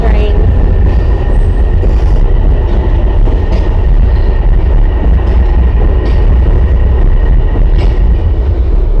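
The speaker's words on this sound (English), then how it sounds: "Stupid train." A train rolls past close by in Miami with a loud, steady rumble and rattle of railcars that persists throughout, with faint wheel squeals and clatter on top.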